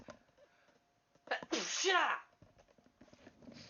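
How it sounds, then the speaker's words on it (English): A single loud sneeze bursts out close by, with a sharp intake before it and faint rustling around it. "I'm gonna sneeze"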